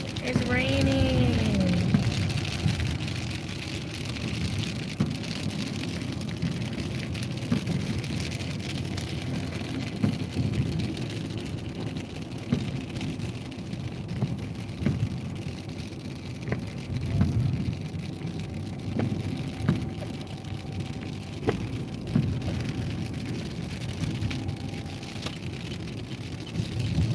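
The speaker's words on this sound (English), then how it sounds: "It's raining." Steady rain patters outdoors throughout, a continuous wash of noise while people talk over it.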